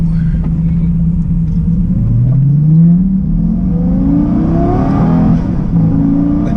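A 2008 Lamborghini Gallardo's loud engine revs up through several gear shifts, pitch climbing then dropping with each change, close and powerful.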